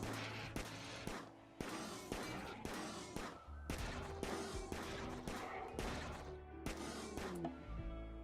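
Gunfire in RimWorld video game combat: a rapid series of sharp, punchy shots fired in bursts, each crack trailing briefly, with some overlapping impacts and tonal game sounds underneath.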